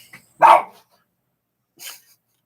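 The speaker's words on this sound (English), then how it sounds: "Crazy dog" A dog barks outdoors, one sharp loud bark followed after a pause by a second, shorter and fainter bark, with quiet in between.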